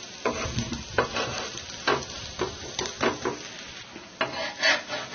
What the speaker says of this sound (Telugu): నెయ్యి వేసుకుంటూ రెండు వైపులా కాల్చుకోవాలి.